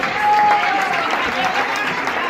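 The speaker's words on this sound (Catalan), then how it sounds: "s'emporten aquest fort aplaudiment també de l'ATEC" Audience at a First Lego League robotics tournament gives loud, sustained applause, a dense wash of clapping mixed with crowd chatter throughout.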